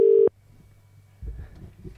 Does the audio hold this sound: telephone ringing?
yes